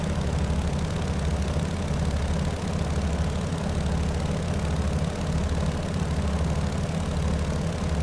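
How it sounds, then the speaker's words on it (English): Beechcraft 17 Staggerwing radial engine, simulated in Microsoft Flight Simulator, runs up to 1800 RPM with a continuous deep, throbbing drone that holds steady and loud throughout, with no talk over it. "so we'll come up to 1800 RPM for the run-up."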